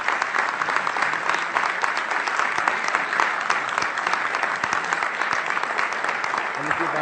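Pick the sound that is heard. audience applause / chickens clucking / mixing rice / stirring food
audience applause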